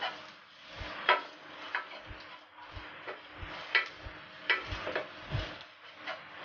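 Spoon stirring minced ginger in a hot pan with a light sizzle, giving a series of irregular scraping taps and clinks at a moderate distance.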